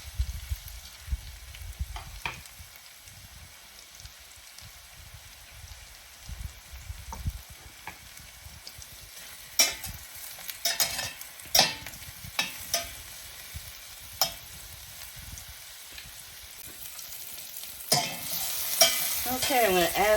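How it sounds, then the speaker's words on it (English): Sauteing in a pan for beef stroganoff, with a steady sizzle of frying and intermittent stirring scrapes, louder bursts toward the end; no talk. "we're just going to saute these guys up"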